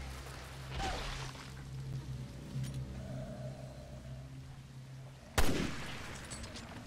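Gunfire in the video game Resident Evil: Revelations 2: one muffled shot early, then a sharp, loud report near the end over a low, humming in-game background.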